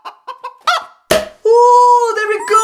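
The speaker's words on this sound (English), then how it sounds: "Hello, Mrs. Chicken. I need some eggs" A chicken clucks in a short run of quick clucks, then a longer drawn-out squawk, loud and close with nothing else around it.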